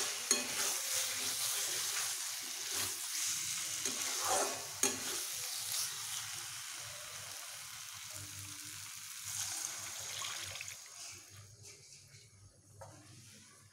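A spiced paste, already cooked down, sizzles and fries in a pan as water goes in, a loud broadband hiss that settles into steady bubbling and stirring, gradually quieting toward the end.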